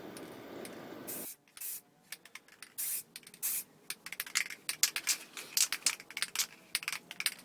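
Bursts of aerosol spray primer hiss onto a BMW alloy wheel in short repeated passes, close and fairly loud, with quick pauses between strokes after a steadier opening hiss.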